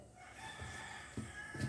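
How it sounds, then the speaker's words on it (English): Roosters crow faintly in the distance, a brief burst of fowl calls rising over quiet background noise. "Sorry about the roosters."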